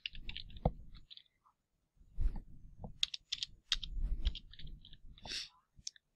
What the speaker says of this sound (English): I think I could type in here.